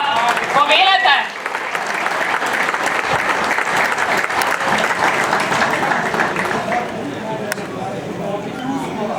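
An audience applauds at an award ceremony held by the SASA mine and Makedonska Kamenica municipality: steady, dense clapping from a crowd, loud and sustained for several seconds.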